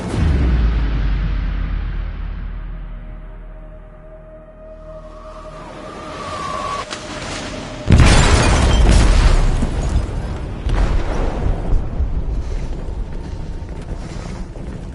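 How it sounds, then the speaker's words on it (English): In a video game, an explosive detonates in a ship's hold: a deep, loud boom that rolls on into long rumbling debris and crashing, then a second burst, with no voices. "They detonated an explosive in the hold."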